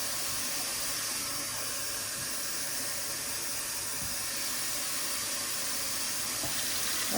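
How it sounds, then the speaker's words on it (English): Beef broth pours steadily into a stew pot, a continuous close, splashy hiss of liquid running for several seconds without a break. "I'm going to add some liquids. This is some beef broth."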